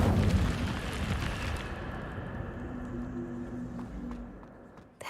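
An Incendio fire spell bursts in Hogwarts Legacy with a loud, roaring whoosh at the start that trails off into a fading, rumbling crackle over a few seconds.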